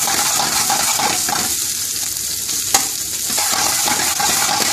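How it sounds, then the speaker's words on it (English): Curry ingredients with salt and mixed curry powder are stirred in a hot frying pan for Indian restaurant-style fried rice, brisk scraping strokes over a loud continuous sizzle. "mix all the ingredients in well in"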